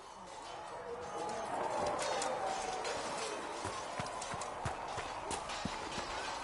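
Horse hooves gallop in a steady, rapid rhythm across a Dragon Age video game scene, sustained and fairly loud under a continuous ambient wash.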